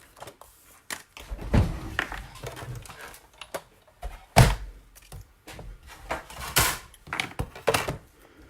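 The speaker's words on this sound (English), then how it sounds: "let me bring in the big shot so I can cut that out." A Big Shot die-cutting machine cuts out a paper flower, giving a series of hard thunks and clunks like a door or drawer closing, spaced irregularly and fairly close, with no talking.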